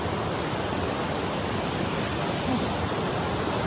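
A stream flows at Jones Gap State Park in South Carolina, giving a steady, broad rushing wash of water that holds even and fairly loud throughout, with no voices over it.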